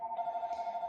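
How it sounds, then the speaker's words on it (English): A phone ringing with a steady electronic warbling tone, close and fairly quiet, with no talking. "Sorry, my phone's ringing."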